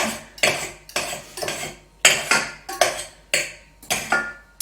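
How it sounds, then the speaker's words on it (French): Leftover pastry dough being cut with a metal utensil in a tart pan, giving a run of repeated sharp clacking and scraping strokes in clusters of two or three, close and clear, with no talk. "On prend le reste de pâte thaï. On va tout découper dedans."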